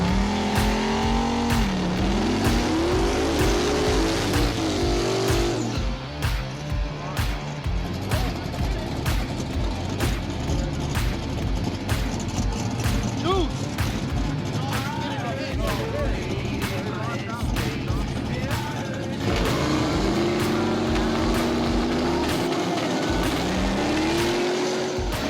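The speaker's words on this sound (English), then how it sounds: "Pat's got a street car and Nick's got a race car" A Buick GN street car and a Mustang race car in a street race, with engines revving, accelerating and roaring past, gear changes and pitch sweeps, loud and close. Someone talks over much of it.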